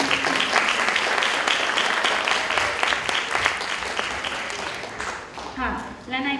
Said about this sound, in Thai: ขอเสียงปรบมืออีกครั้งค่ะ